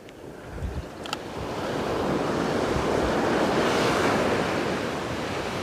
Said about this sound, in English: I've got northeasterly winds today, which are blowing at this angle